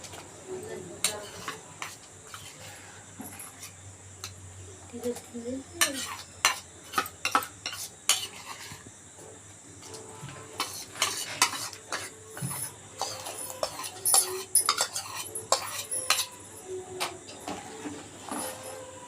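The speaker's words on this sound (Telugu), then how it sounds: "సగ్గు బియ్యం అయితే నానబెట్టేసాను కదండి, వేసేస్తున్నాను." Soaked sago pearls go into a pot for sago payasam and are stirred with a spoon, giving irregular scraping and clinking against the pot in clustered bursts. A steady low hum runs underneath and there is no talk.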